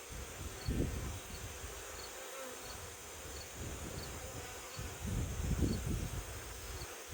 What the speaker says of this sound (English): There's so many bees and they're so calm.